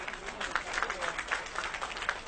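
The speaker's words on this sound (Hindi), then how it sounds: "एक बार जोरदार तालियां बजाइए अपने लिए" A seated audience at a health talk claps for themselves, a moderate, fairly faint spread of clapping with distinct individual claps standing out and a voice faintly underneath.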